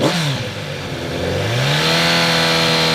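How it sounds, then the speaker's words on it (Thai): A 2022 Kawasaki Z900RS, 900cc, on its stock exhaust idles and then revs; the engine note dips briefly and then climbs smoothly to a steady higher drone, loud and close, with no talking. "คันนี้ยังคงเป็นท่อเดิมครับมาฟังเสียงท่อคันนี้กันหน่อย"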